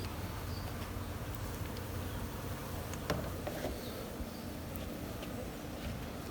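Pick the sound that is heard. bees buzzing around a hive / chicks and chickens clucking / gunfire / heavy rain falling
bees buzzing around a hive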